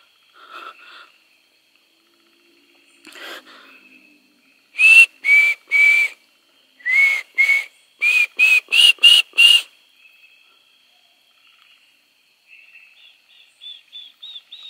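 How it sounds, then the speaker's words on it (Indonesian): Short, clear whistled notes come in bursts on a mountain near an old Dutch fort: some faint calls at first, then loud repeated two-tone whistles in quick succession, then quieter chirps trailing off. "Kayak ada yang ngikutin siulan gua"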